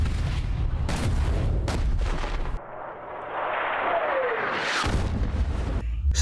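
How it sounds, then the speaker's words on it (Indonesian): Artillery bombardment in the war film The Mountain 2, heavy rumbling booms and blasts with a whistling incoming shell, loud and dense, no talk. "Letkol Faisal meminta serangan artileri untuk membombardir kelompok ISIS itu segera."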